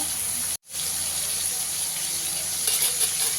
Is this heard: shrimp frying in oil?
yes